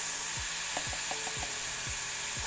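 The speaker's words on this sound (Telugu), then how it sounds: "ఇది ఒక్క నిమిషం ఇలా కలిపి పచ్చివాసన పోయే వరకు వేయిద్దాము" Banana stem with turmeric stir-fries in a pan, a constant hiss of sizzling beneath about six quick, rhythmic spatula scrapes, close up and with no voices.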